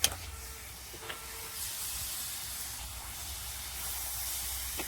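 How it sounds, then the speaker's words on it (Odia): Spice masala sizzles and hisses in a hot pan while being fried for cabbage curry, a steady close frying sound with a few clinks at the start. "ଏବେ ମସଲା କଷୁଛି, କୋବିକୁ ତା ଦେହରେ ପକେଇବି"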